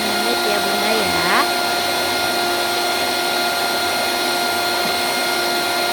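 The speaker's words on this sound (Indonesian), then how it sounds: "Pokoknya sampai benar-benar mengembang dan aku mixer selama 8 menit ya bunda ya." An electric mixer beats black sticky rice cake batter with a loud, steady whirring drone, close and continuous, with a brief shift in pitch near the start.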